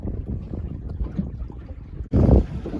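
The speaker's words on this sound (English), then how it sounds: "And now, as we got some wind, we can do some sailing." Sailboat under sail at about 2.4 knots: steady wind buffeting the microphone with low water rush, then a sudden louder gust of wind and splashing near the end.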